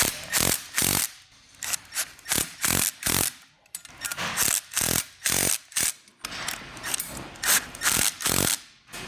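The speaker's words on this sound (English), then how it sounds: "We're going to go ahead and tighten these nuts and bolts using a 7/16 wrench and socket." A 7/16 wrench and socket tightening nuts and bolts during a BoonDocker intercooler install on a Patriot Boost snowmobile, with close, loud bursts of rapid ratchet clicking in repeated short strokes separated by brief pauses.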